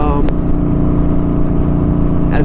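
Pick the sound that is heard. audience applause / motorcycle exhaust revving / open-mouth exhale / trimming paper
motorcycle exhaust revving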